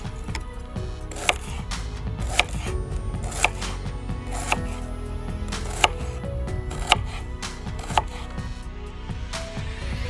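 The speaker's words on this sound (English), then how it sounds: "Chop those 2 onions into small slices" Two onions being chopped into small pieces on a board for a Moroccan beef tagine, sharp knife taps landing at a steady, unhurried rhythm over a low kitchen hum, with no talking.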